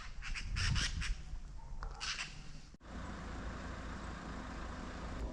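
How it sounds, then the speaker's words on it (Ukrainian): Birds at a village marsh squawk in a few loud bursts at the start, with another call around two seconds, then give way to a steady outdoor rumble. "Тут багато різних пташок."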